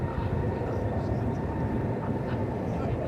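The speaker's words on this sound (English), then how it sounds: "Now the Finnair is coming in on runway 18 right." A Finnair Airbus A350-900 airliner arriving from Helsinki lands on runway 18 right at Dallas Fort Worth airport, a steady broadband engine roar held at constant loudness throughout.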